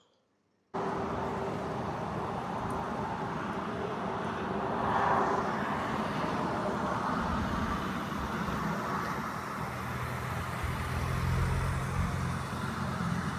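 A Renault Koleos Bose edition with a 2.0 diesel, automatic gearbox and 4x4 on a test drive: a steady, continuous drone of engine and road noise heard from inside the cabin, with no talking.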